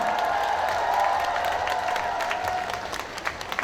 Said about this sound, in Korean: 우리 행사 관계자 여러분들께 크게 박수 한번 크게 보내주시면 감사하겠습니다